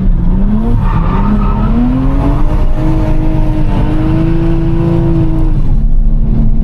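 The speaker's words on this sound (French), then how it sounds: "Et ouais, il va bien ce moteur là, en fait." A Toyota Chaser's engine roars continuously and loudly while drifting, its pitch rising and falling as it revs, with a hint of tire noise underneath.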